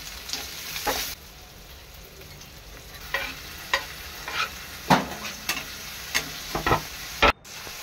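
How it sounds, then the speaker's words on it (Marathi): Mustard seeds, cumin, garlic, onion and tomato hitting hot oil for a Marathi-style broccoli bhaji tempering, giving a steady sizzle with a burst at the start and a string of sharp pops and crackles spaced across the rest. "तेल गरम केलेलं आहे, राई जिरा लसूण कांदा टोमॅटो टाकूया।"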